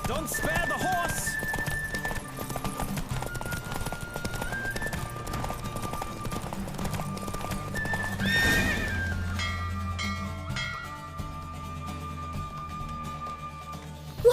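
Horse racing at full gallop in The Witcher 3, dense hoofbeats and loud neighing under sustained game music, a voice calling out in places, a surge of effort near the finish before the hooves thin out.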